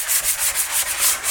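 A surface is sanded by hand in quick, even back-and-forth strokes, about six rasping passes in a short burst, loud and close with no voices.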